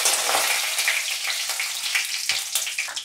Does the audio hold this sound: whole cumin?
yes